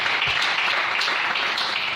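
Applause from a church congregation acclaiming the Lord during a sermon, a dense, continuous burst of clapping at steady loudness filling the whole moment.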